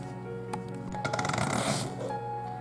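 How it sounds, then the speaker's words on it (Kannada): A kitchen mixer grinder powders about four tablespoons of fenugreek seeds, giving a rising whirring roar with gritty rattling that swells mid-way and then eases, over a steady background hum. "ಇದನ್ನು ಪೌಡ್ರ್ ಮಾಡ್ಕೊಳ್ಳೋಣ ಮಿಕ್ಸಿಗೆ ಹಾಕ್ಕೊಂಡು"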